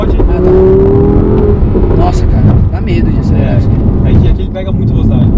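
A 2017 Audi R8 sports car accelerating downhill on a road, a loud steady engine roar heard from inside the cabin, with people talking over it.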